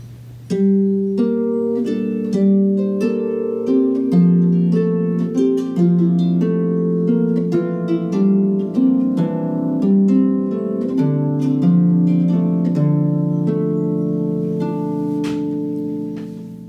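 A harp plays a flowing melody over plucked chords, notes ringing and overlapping continuously for a long stretch.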